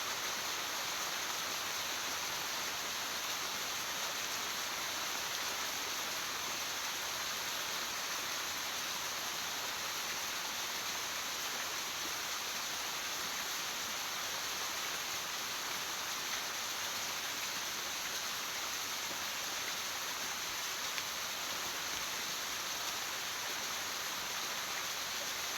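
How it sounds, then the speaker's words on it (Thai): Rain falls steadily in a forest near a waterfall, a dense, even hiss of water that continues unbroken and alone throughout. "ฝนตก"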